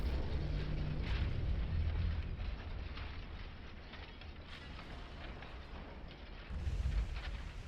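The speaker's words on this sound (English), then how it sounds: "Bunch of gunfire coming our way now." Rumbling booms of heavy naval gunfire in the video game Ultimate Admiral: Dreadnoughts roll continuously over a dense, noisy battle backdrop, with sharper blasts standing out now and then.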